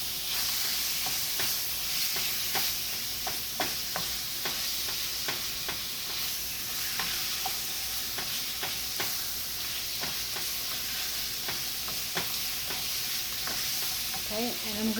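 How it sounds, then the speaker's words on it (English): Taco filling with parsley frying in oil in a pan, a loud continuous sizzle with stirring scrapes and light clicks of the utensil throughout, close up. "Mix it up. Let it fry."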